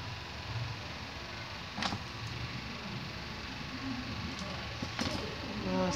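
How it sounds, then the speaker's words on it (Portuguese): A sound car with a loudspeaker passes outside, heard muffled and distant through a steady wash of background noise, with a few brief knocks along the way and the sound swelling slightly toward the end. "Nossa, gente, de novo, carro de som."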